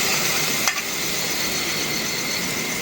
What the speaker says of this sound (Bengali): এখন দিয়ে দেব আদা রসুন ধনিয়া জিরা এলাচ দারচিনি বাটা